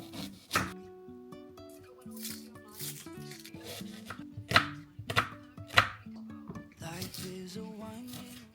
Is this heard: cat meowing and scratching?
no